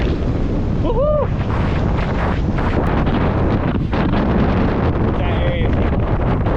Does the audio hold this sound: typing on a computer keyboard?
no